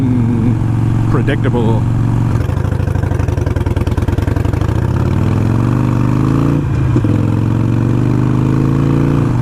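A Harley-Davidson Iron 883 motorcycle with a Vance & Hines Fuelpak FP3 tune idles with a throaty V-twin lope, then revs up and settles back, close and loud, while a rider talks briefly over it.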